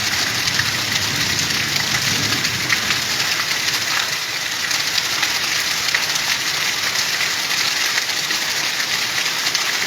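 Heavy afternoon rain pouring steadily, a dense, even hiss of drops on surfaces that holds at constant strength throughout.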